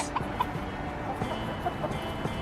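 Soft, scattered clucks from chickens, a few short calls spread across a low, steady background murmur; fairly quiet and close by.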